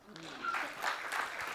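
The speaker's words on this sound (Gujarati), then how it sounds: "તમારા પોતાના માટે એકવાર તાળી પાડો." A school lecture hall audience applauds together, a dense, moderately loud wash of clapping lasting just over a second, with faint voices mixed in.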